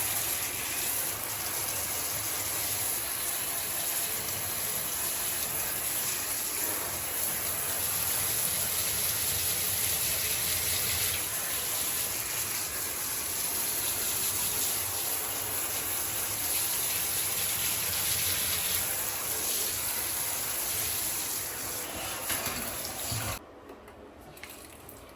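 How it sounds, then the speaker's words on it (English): Water pours steadily onto potted Sansevieria plants for a long, continuous stretch, a close, even splashing and trickling that cuts off near the end. "let me go ahead and rinse them, well, water them, right?"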